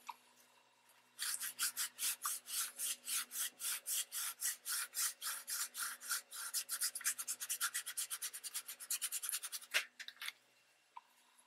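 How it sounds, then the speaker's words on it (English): Rapid back-and-forth rubbing of an inked cloth on magazine paper, a quick rhythmic series of dry swishes close by that starts suddenly, keeps a steady pace for about eight seconds, then stops, with one or two last strokes. "And I'm actually rubbing the ink from the cloth."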